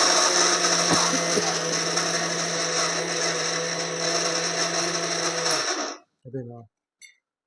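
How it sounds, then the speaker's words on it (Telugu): A kitchen mixer grinder whirs loudly and steadily while grinding curry leaf chilli powder with unpeeled garlic cloves, then winds down and stops, followed by a few short clunks of the jar. "మధ్య మధ్యలో మనం మూత తీసి దాంతో ఆ కారంని కలుపుకుంటూ ఉండాలి మిక్సీలో."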